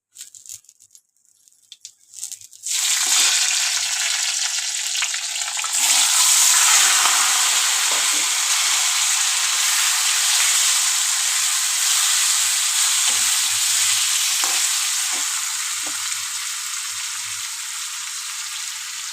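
Green chillies frying in a pan for a quick home recipe: after a brief quiet start, a loud, dense sizzle bursts in and holds steady and close, easing slightly toward the end.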